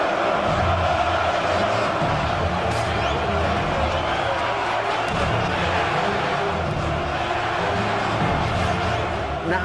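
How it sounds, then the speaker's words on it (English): A boxing arena crowd at Benn versus McClellan, a dense roar of chanting and singing that holds loud and steady throughout, with a voice talking over it. "the chanting, the singing."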